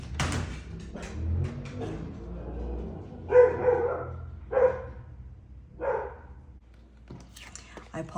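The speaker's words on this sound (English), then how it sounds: "I apologize for my dog barking." A dog gives three or four sharp barks spaced a second or so apart, fairly close, between stretches of quiet talking.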